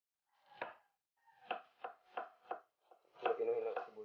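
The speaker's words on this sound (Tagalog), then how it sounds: "Pinuhin lang sibuyas." A knife finely chops an onion on a board in a home kitchen: a series of crisp, close, fairly quiet taps in an uneven rhythm, ending in a quicker cluster of cuts.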